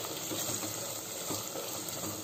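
Mushroom biryani masala in a pressure cooker frying as turmeric and chili powder are mixed in, giving a steady, faint sizzle with soft stirring scrapes throughout.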